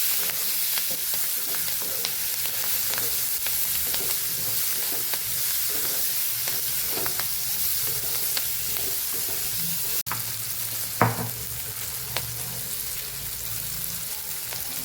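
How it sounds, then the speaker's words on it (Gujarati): Green lotiya chillies with turmeric sizzle and fry in a pan, a loud, steady crackling hiss with occasional stirring clicks and scrapes. "આપણે મરચાંને પહેલાં આપણે સાતરી લેવાના છે"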